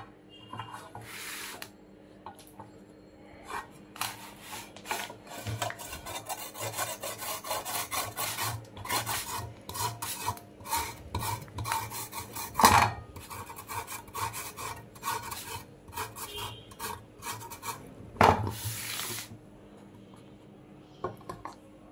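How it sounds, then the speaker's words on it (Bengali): Carrots rasped against a coarse grater in a steady run of scraping strokes, close and fairly quiet, with a couple of sharper knocks, and no talking. "সেই গ্রেটার দিয়েই আমি গাজরগুলাকে গ্রেট করে নিব।"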